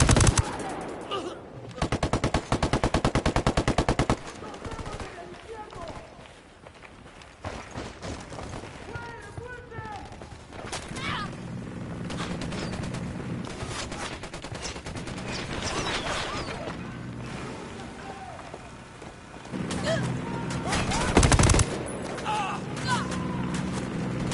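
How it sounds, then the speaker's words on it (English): Ghost Recon gunfire on PS4 comes in bursts of rapid machine-gun shots, loud and close, with quieter stretches of background game sound and scattered voices between the volleys. "Opening fire."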